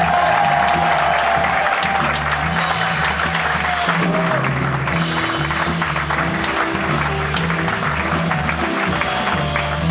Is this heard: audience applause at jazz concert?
yes